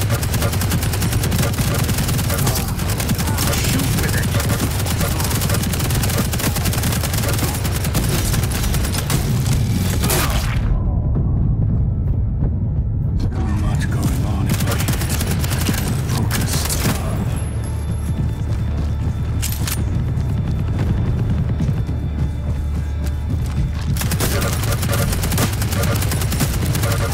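Constant rapid gunfire and explosions in a Quake Champions deathmatch in the Blood Covenant arena. The loud bursts are nearly unbroken, with a short lull around the middle.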